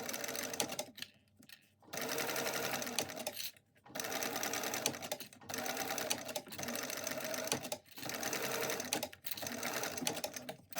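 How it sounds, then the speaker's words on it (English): Sewing machine topstitching along the edges of a padded backpack strap, running in four loud sustained bursts of steady rapid stitching separated by brief pauses. "I'm going to top stitch this on all 4 edges"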